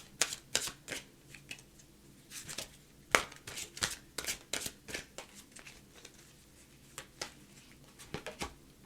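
Tarot cards being shuffled by hand up close, a series of irregular crisp riffling and slapping bursts with short pauses between them, quiet and alone.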